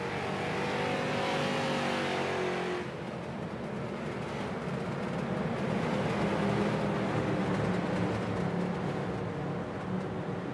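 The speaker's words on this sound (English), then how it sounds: "pace cars leading the field into turn 3 through turn 4" Street stock cars following a pace car around Five Flags Speedway, a loud continuous rumble of many engines droning together under caution, one engine note shifting partway through, with no talk.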